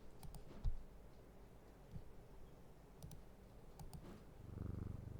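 A cat in the game Strange Antiquities purrs faintly as a low rumble that grows toward the end, with light mouse clicks scattered throughout.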